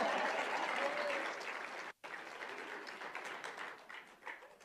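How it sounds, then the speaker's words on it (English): An audience at a school board meeting claps in sustained applause with a brief break, and the clapping thins out toward the end. "Let's give them a big round of applause."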